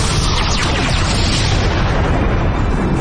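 A big cannon fires in a Power Rangers Samurai episode, a loud, dense roar of explosive rumble and crackle filling the whole three seconds without letup.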